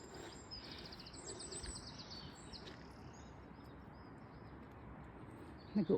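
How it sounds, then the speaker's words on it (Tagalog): Faint high chirps and trills of birds in a forest carry over a low outdoor rumble, distant and sparse, with a soft thump at the end. "Nag-uusap ang mga ibon, guys. Pakinggan yung chismisan nila."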